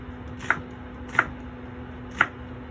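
Three crisp knife strokes hit a cutting board as half an onion is chopped, evenly spaced and close by, with a faint steady hum underneath and no talking.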